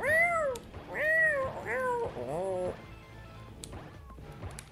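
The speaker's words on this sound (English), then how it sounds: "I fire laser cats." Cartoonish cat meows ring out from laser cats fired in the video game Awesomenauts, three or four quick, close, loud yowls in a row. Softer game clatter and impacts follow.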